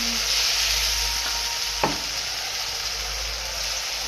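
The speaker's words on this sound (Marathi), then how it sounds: "आता ह्याच्यात घालूया आपण टमाट्याची प्युरी।" Tomato puree goes into a pan of browned fried onions, giving a steady loud sizzle with a brief stirring scrape partway through.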